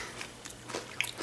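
Crunchy rice crackers from a Japanese snack box are bitten and chewed close up, giving a few short dry crunches with no talk.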